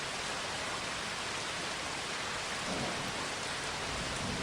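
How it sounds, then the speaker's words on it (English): Soft, steady rain patters on rainforest leaves, a dense even hiss that holds at a constant level throughout with no voices. "A soft rain begins to fall, its droplets pattering gently on the leaves above creating a soothing rhythm."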